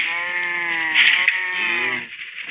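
Cows in the video game Minecraft give a steady, close, loud harmonic moo that runs without a break for about two seconds, then fades out.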